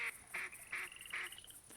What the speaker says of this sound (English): When you hear the pintails,